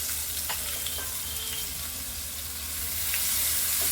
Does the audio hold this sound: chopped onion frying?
yes